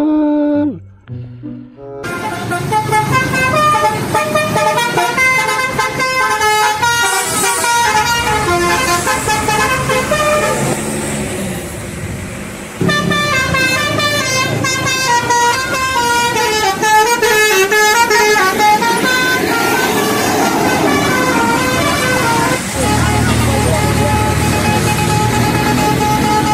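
Loud melodic telolet horn of an Indonesian Sumber Alam coach bus, playing a continuous, bright tune of rapidly changing honks for nearly half a minute, close and dominant, with no speech.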